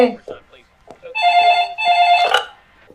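A telephone rings in two long electronic bursts with a steady tone, while people talk around it and between the rings.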